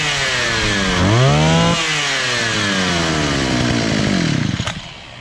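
A 43cc Elite series brush cutter engine with a newly replaced carburetor revs up loudly, drops back, then climbs again in sweeping pitch before being shut off.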